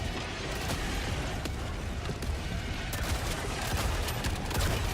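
Helldivers 2 sentry turret gunfire crackles in fast, scattered shots within a dense, noisy battle soundscape, fairly loud and continuous throughout.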